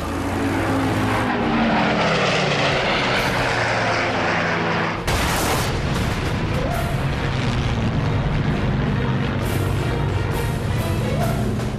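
Roaring WWII fighter plane engines, including a FW-190, drone loudly through a wartime air battle, with a sharp change partway through and bursts that sound like gunfire over the steady propeller roar.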